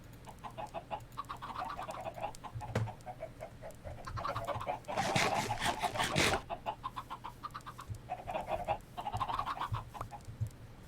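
Many Minecraft chickens cluck in short repeated bursts, with a rising rush of rustling noise in the middle, a sharp click before it, and a faint low hum running underneath throughout.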